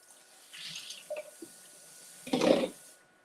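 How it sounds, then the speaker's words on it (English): A kitchen tap runs while something is rinsed for reuse, giving a soft hiss, a few small splashes and a stronger gush of water near the end, fairly quiet and close. "All right, so we're just gonna rinse and reuse."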